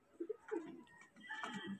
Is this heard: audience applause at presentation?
no